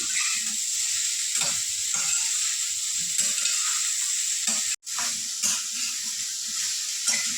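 Vegetables for masala pulao are stir-fried continuously in a pan over medium heat, a loud, even sizzle and hiss with soft periodic scrapes of the spoon and one brief dropout, no voices.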